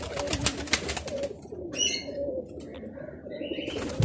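Green-pearled pigeons of a prized breeding family, their soft coos and chirps sounding close by amid wing flutters and a steady background rustle, with brief higher calls rising now and then.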